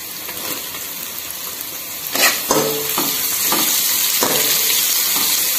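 Vegetables, including thinly cut beans, fry and sizzle steadily in a pan for veg hakka noodles, with a few sharp stirring scrapes and clatters breaking through the continuous hiss.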